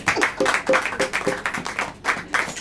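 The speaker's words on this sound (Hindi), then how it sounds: "ताली बजाओ।" A church congregation at a sermon claps in a quick, uneven burst of applause, many hands close and loud for a few seconds with brief dips.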